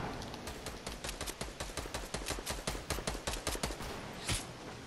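Rapid, regular volley of sharp gunshots in a video game firefight, loud and close, running steadily for several seconds with a final heavier crack near the end.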